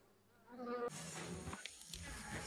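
Honeybees buzz faintly around a hive box as a cluster forms a protective covering, a soft drone swelling and fading as individual bees pass close.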